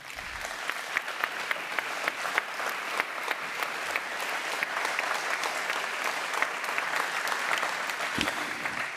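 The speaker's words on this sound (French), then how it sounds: "vous pouvez les applaudir, je pense" An audience at a conference opening plenary applauds green-scarf volunteers, a steady wash of many hands clapping for about nine seconds, fairly even and sustained with individual sharp claps standing out.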